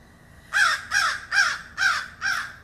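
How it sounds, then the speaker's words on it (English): A crow caws five times in a steady, evenly spaced series, each call loud, harsh and close, with no talk over it. "The crow just said yes."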